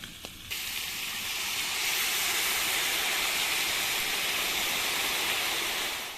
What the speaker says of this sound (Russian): В мясо добавим немного вина.